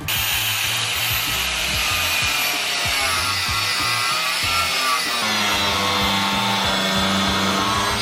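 A power tool saws through a Nissan 240SX bumper piece in a loud, continuous grinding rasp. A rapid rough rubbing rhythm runs underneath the whole cut, and nobody speaks.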